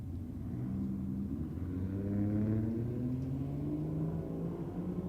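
Roll-race cars, a BMW against a Falcon, rev and accelerate in a steady droning rumble with rising engine tones, fairly distant and alone.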